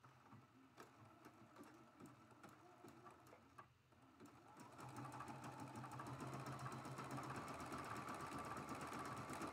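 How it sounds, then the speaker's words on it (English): A sewing machine stitches a test seam on a fabric scrap, starting as faint ticking and then settling into a steady, quiet mechanical hum with rapid needle clatter. "I always test my stitch out on a scrap to see what it's going to look like before I bring in my project."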